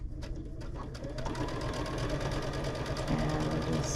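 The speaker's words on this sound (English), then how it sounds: "we're just sewing along that line, or against that line, scant quarter inch." A sewing machine stitches a scant quarter-inch seam along a marked line while making a June Tailor shopper bag, giving a steady, continuous mechanical whir at moderate volume with no talking.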